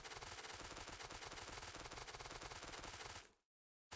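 Rapid automatic gunfire in the video game Factorio, a dense continuous burst of shots that cuts off abruptly into silence near the end, then resumes briefly.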